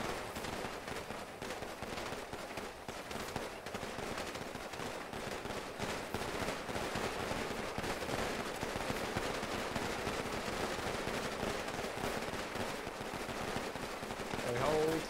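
Gunfire from a volley salute at a police funeral in GTA V roleplay, a dense continuous crackle of many shots layered with voices talking throughout, staying loud and steady.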